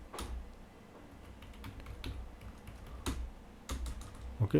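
Password being typed on a computer keyboard: sparse, irregular key clicks, close and fairly quiet, with short pauses between strokes and no talking.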